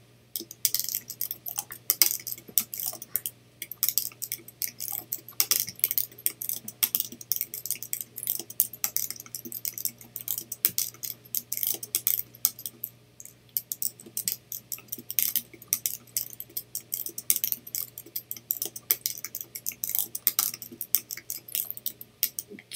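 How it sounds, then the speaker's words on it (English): Rapid, irregular light tapping on a keyboard with a mouth stick, steady and close, over a low constant hum, with no talking. "And that is how I do most of my typing as well."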